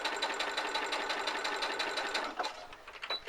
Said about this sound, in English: we're now just going to sew across the pieces that we've pinned